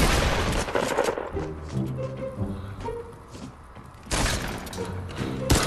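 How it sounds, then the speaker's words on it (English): An infantry rifle fires in a video game: a loud opening flurry of close shots, then a quieter stretch with a few thuds and tonal game sounds, and a second sharp volley of rapid shots near the end. "I got the new infantry rifle"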